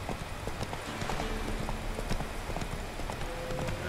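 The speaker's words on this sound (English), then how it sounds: "Por 2 no me voy a bajar del caballo" A horse clip-clops steadily along a road while it is ridden in The Witcher 3, the hoofbeats quick and continuous over a dense game soundscape with ambient background noise.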